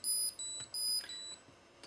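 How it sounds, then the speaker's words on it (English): A HAB Bounder device in error mode emits a high-pitched two-tone beep, sounding as short, faint, repeated electronic chirps in quick succession with no other sound. "It's a high-pitched two-tone beep"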